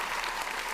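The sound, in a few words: audience applause at a pitch event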